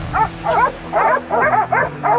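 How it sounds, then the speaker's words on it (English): Hunting dog barking in brush while tracking a wild boar on California farmland, six evenly spaced sharp barks in a steady rhythm, close and loud, with no talking. "the barking signal told me the target was near"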